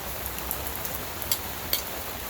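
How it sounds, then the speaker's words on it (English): Steady rain falls outdoors beside a backyard grill, a constant wash of patter with a few slightly louder drops standing out, no voices. "that rain is definitely coming down"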